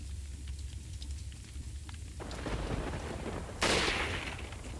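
Gunshots in Resident Evil 4, a few loud cracks, the last one the strongest, over a constant rain-like background.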